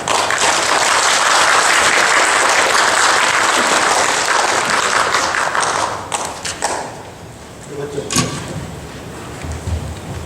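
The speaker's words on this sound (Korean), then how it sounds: "우리 나오실 때 큰 박수로 환영했으면 좋겠습니다" Congregation applause welcoming a pastor to the pulpit at a Korean church service, a dense, steady clapping that fills the room for about six seconds before thinning into scattered claps and fading.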